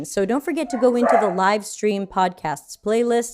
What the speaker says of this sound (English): Sorry about my dog freaking out.